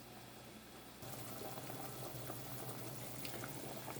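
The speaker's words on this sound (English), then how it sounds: "we see that it is boiling, boiling, boiling" A pot of water for a shrimp boil bubbling on the stove, a faint, continuous seething hiss that thickens after the first second, with no voices over it.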